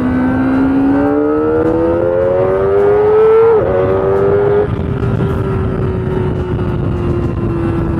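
A Kawasaki ZX25R motorcycle engine screams up through high revs with a rising, steady whine, briefly dips as it shifts near the four-second mark, then holds a high, even drone; loud and close.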